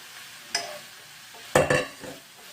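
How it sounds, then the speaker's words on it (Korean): Meat and dried pumpkin strips stir-fried together in a pan for royal court tteokbokki, with two sharp sizzling bursts of stirring and tossing against a quiet background, no voices. "호박꼬지도 이렇게 넣어서 같이 볶으세요"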